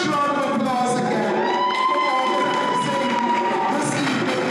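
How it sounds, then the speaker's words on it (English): A full room cheers and whoops loudly at a community evening gathering, a steady wash of crowd shouts and voices running throughout with little distinct clapping. "we want to give a full room, a huge round of applause again."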